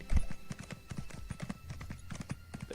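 Horse hooves running in Elder Scrolls Online, a steady rhythmic clip-clop of galloping hoofbeats, close and continuous throughout.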